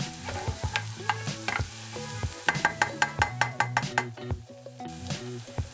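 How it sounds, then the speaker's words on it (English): Chopped garlic and chili fry in hot sesame oil over medium heat, a steady sizzle punctuated by repeated sharp scrapes and taps of a utensil stirring against the pan, close and alone. "I'm gonna fry until it turns slightly brown"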